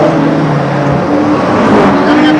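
Sedans racing at Liverpool Raceway speedway, a dense continuous engine roar from several cars passing on the back straight, loud and steady with a commentator talking over it.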